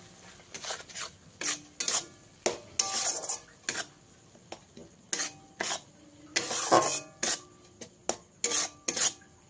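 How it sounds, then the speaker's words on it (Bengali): Mustard, poppy seed and green chilli paste stirred with tomato in a pan for a vegetarian okra dish, giving repeated scraping and clinking strokes of a utensil against metal, close and fairly loud, with a faint sizzle underneath. "দিয়ে দিতে হবে পেস্ট করে রাখা সরষে, পোস্ত, কাঁচা লঙ্কা, দিয়ে আবারও খুব ভালো করে মিশিয়ে নিতে হবে"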